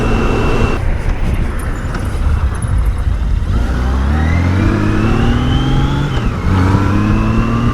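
Loud, continuous road and wind roar from riding a 2002 Honda GL1800 Goldwing motorcycle, with the engine note climbing steadily as it accelerates through the gears.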